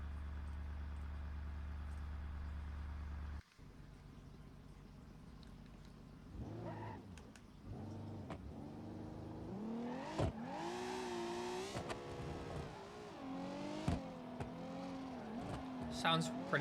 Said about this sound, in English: Sounds pretty nice. I really like this V6.